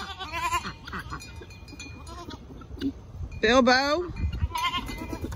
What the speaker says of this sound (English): Now the goats came in here.